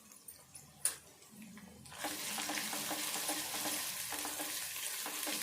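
Potatoes sizzle as they fry in oil in a pan, a steady loud crackle that starts after a couple of seconds of quiet clinks, with occasional stirring scrapes.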